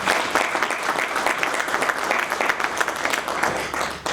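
Audience applause at an inaugural university lecture, a steady dense patter of many hands clapping for about four seconds, fairly loud and unbroken, with no talk over it.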